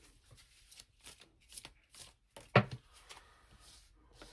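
Playing cards are shuffled in a series of quick riffling bursts at close range, one louder snap standing out midway, with no talk over them.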